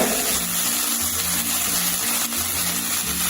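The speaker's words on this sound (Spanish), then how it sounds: "Y le añadimos el agua." Water pours from a jug into a hot paella pan of rice and cauliflower, making a steady rushing, hissing gush that runs throughout, close and fairly loud.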